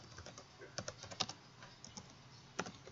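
Quick, close keystrokes on a computer keyboard as programming code is typed, coming in short irregular bursts with brief pauses between them.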